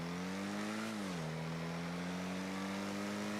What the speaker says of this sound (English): There was a turbo-y noise.